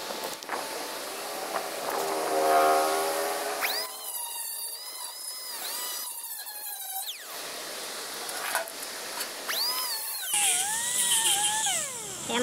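A small rotary tool fitted with a rubber wheel sands a boat's gas tank during a 1986 Sea Ray restoration, giving a continuous high whine that rises and falls in pitch as load changes, close and fairly loud, with no talk.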